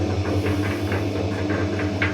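An old cement mixer on a German farm runs with its unlubricated gear turning, a steady low hum with a faint rhythmic scraping and ticking repeating roughly every quarter second, close and continuous with no talk.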